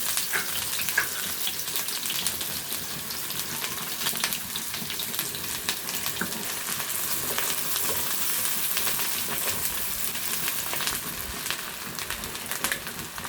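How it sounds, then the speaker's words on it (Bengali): Sliced onions fry in hot oil in a pan until browned, a steady, close, bright sizzle with crackling bursts throughout and no speech. "লাল লাল করে ভেজে নেব বেরেস্তার মতো"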